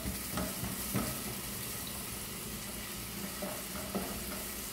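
Grated onion frying in oil in a pan, a steady close sizzle with a few soft clicks and stirring knocks, no talking.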